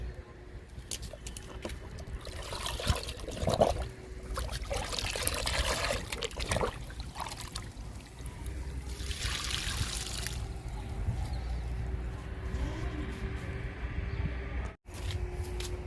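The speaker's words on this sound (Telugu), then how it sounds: "ఇప్పుడు ఇచ్చేద్దాము లిక్విడ్ని" Liquid fertilizer trickles and pours onto flowering potted plants in a steady, continuous stream for about sixteen seconds, with a brief break near the end.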